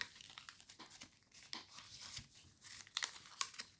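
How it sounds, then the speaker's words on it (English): Sheet of paper being inside reverse folded while shaping an origami F-35 jet, giving a run of close, quiet crinkles and crisp rustles with a few sharper snaps near the end. "you can inside reverse fold this big flap"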